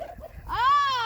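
A black turkey on a farm lets out a single short, rising-and-falling harmonic call close by, following a moment of low background rumble.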